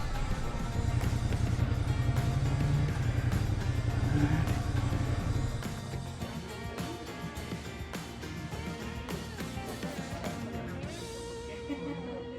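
A motorcycle engine drones steadily and loudly at first, then drops in pitch and load as it shifts down two gears into first, settling into a lower, uneven running note with wind rush.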